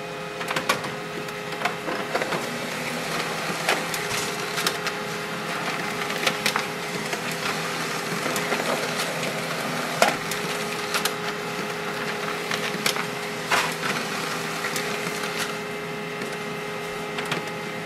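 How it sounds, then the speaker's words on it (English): An HP LaserJet Pro M203dw laser printer runs continuously with a steady mechanical whir, punctuated by small clicks and ticks as paper feeds through. "It may take some time for the printer to process the information and then it will print."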